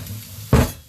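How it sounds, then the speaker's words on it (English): Red onion and capsicum hit a hot skillet for a tofu shakshuka, a sudden loud burst of sizzle after a quiet moment, heard close up with no talk. "we're going to put this into the hot pan, your skillet, your pan, whatever you want to do. You can hear it sizzling."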